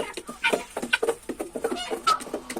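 A small remaining flock of chickens clucks close by in a steady, irregular patter of short calls, with a few louder clucks standing out and no talking.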